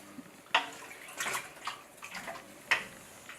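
Water pours into a pot of pre-soaked beans in short splashy bursts, a bright, close trickling that starts and stops several times, with sharp clinks at the pot. No one speaks.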